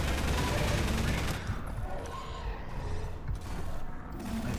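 Rapid bursts of gunfire in Half-Life 2: Episode Two, dense and loud at first, then dropping into scattered sharp shots and clanks with some background noise.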